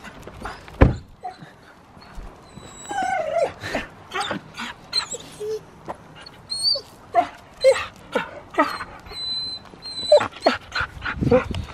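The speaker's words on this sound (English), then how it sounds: "Good to see the dogs again." Several dogs whimper, yip and bark excitedly in short, uneven bursts close by, with no one speaking.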